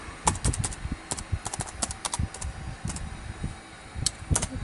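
Keys on a 1999 Macintosh PowerBook G3 keyboard are typed in quick, irregular clusters of soft clicks, close and fairly quiet, with a faint steady hum beneath.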